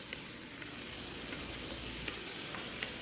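Leaves with thyme sizzle and fry steadily in a pan as they are stirred, a continuous hiss with a few faint scraping ticks and no talking.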